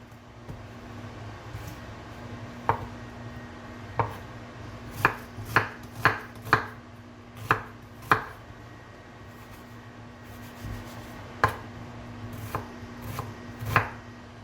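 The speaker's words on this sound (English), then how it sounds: "all I'm doing right now is just cutting some onion up very finely" Knife finely chopping onion on a cutting board in a home kitchen, sharp irregular thuds, some in quick clusters, with a low steady hum underneath.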